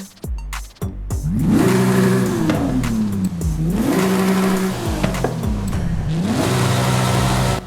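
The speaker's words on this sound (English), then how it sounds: "why don't we go and check out how the exhaust sounds" A 2023 Porsche 911 Rallye engine in Forza Horizon 5 revs up and down three times in a row, each rise climbing to a held high note before dropping, loud and close.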